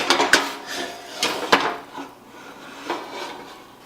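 Metal pot of boiling water clanks and scrapes against a stovetop a few times as it is taken off the heat, sharp bright clatters spaced out over a few seconds, close by with no talking.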